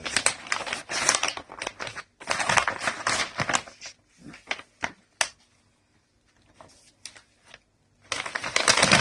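A knife unwrapped from wax paper tied with twine, bursts of crinkling and rustling paper handled up close, broken by short pauses and a few sharp crackles, with no talking.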